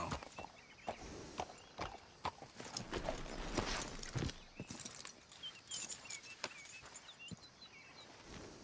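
Horse hooves clip-clopping at a walk in Red Dead Redemption 2, a faint, steady series of hoof thuds with light tack jingles and rustling.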